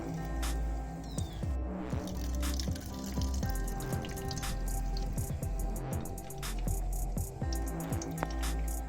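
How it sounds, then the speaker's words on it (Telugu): Grated raw mango is squeezed by hand to extract its juice, a run of close wet squishes and drips repeating throughout, with no one talking. "గీక్కున్న మామిడికాయ తురుముల నుంచి రసాన్ని పిండుకొని అన్నంలో కలుపుకోవాలి"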